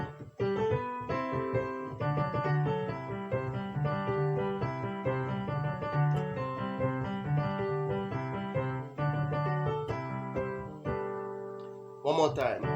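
A piano plays a lively, syncopated Makossa dance rhythm with a steady bouncing bass and repeated chords, continuous and close, ending with a quick run of high notes.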